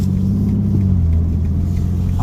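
Deep, steady exhaust rumble of a BMW M2 with 460 horsepower, heard from inside the cabin, loud and continuous with a low droning tone and a slight swell partway through.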